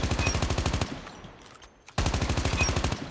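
Rapid bursts of AK117 rifle fire on a video game practice range, two loud sustained volleys separated by a brief quiet gap.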